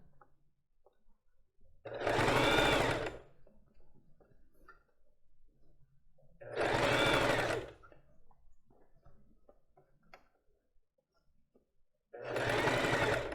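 A sewing machine stitches a lace bra, running in three separate bursts of about a second each, with quiet pauses between them as the fabric is repositioned.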